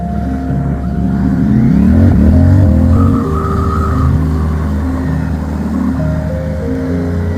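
A motorcycle ridden a short distance to a gym in New Zealand, its engine droning steadily and loud throughout with a rising rev partway through, no talk over it.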